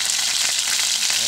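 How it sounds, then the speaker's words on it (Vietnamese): Battered fish deep-fries in hot oil, giving a brief, dense, steady sizzle and crackle heard up close. "Mình sẽ chiên xù cả nhà nha."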